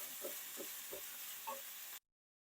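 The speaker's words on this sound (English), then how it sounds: "we're going to add in our ground beef. And you want to just get that mashing up, and we're just going to brown that" Ground beef browning in a pan, a faint steady sizzle with a few soft scraping or mashing strokes, no talk.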